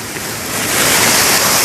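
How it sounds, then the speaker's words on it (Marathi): A waterfall rushing during heavy night rain, a loud, dense roar of falling water that swells over a couple of seconds, with no voices. "अरे सुंदर सुंदर पाणी. वॉटरफॉल"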